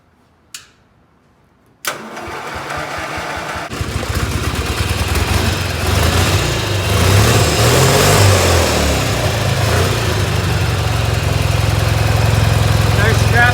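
An off-road mud mower built from a lawn mower cranks over, then catches and runs with a loud, steady engine drone that builds into revving, close to the listener.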